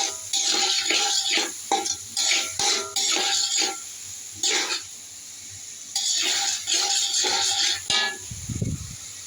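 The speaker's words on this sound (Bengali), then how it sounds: "আমি এই যে গরুর মাংস রান্না করতেছি" Beef with onion and green chili sizzles in a pan, with repeated bursts of hissing and scraping as the food is stirred, close and fairly loud, ending in a low thump.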